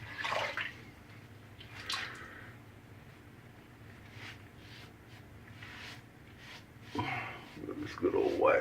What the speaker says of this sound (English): It's rinsing clean with just a couple of swishes in the sink.